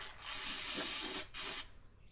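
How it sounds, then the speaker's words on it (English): Brake cleaner hisses in a steady aerosol spray inside a Can-Am clutch arm, two close bursts with a brief break between them, loud and alone. "I'm gonna spray down the arm inside with some brake clean."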